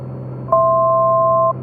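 A Piper Comanche 250 cockpit alarm sounds one steady electronic two-tone beep lasting about a second over the continuous low drone of the engine.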